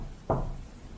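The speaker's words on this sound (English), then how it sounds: "I hear a knock at the door." A single sharp knock on a door at night, close and fairly loud, followed by quiet room tone with no voices.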